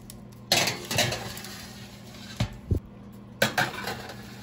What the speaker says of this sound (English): And into the oven they go.